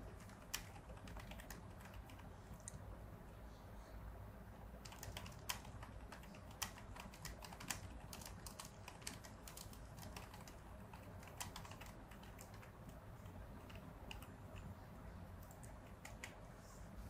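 Someone types text into Microsoft Word on a computer keyboard, producing quiet, irregular, closely spaced key clicks in bursts over a faint background hum, with no talking.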